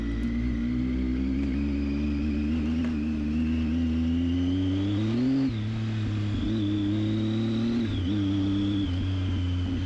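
A Triumph Tiger 800XC motorcycle rides a desert trail near Gila Bend, its close, continuous engine drone rising and dipping in pitch as the throttle changes, with no talking.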